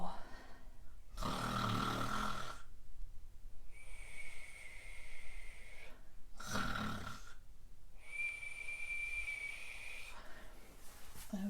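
A voice imitates a bear snoring during a children's yoga bedtime story, with two long breathy snore sounds, each followed by a whistling exhale tone, repeated twice over soft background.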